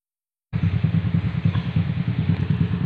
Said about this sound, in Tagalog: Yan po yung motor ko.